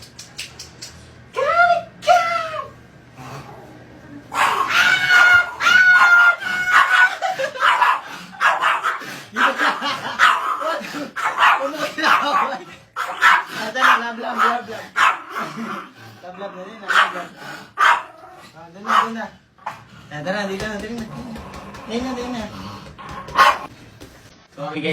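A dog barks and yips in short bursts among people chattering and laughing nearby, with the barks loud and close but often mixed under the talk.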